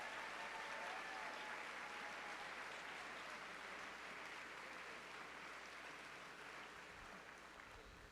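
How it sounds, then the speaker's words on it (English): A large audience at a national civics competition awards ceremony applauds its volunteers, a loud, dense and steady wash of clapping that carries on unbroken and only eases slightly toward the end. "Huge round of applause for every single volunteer."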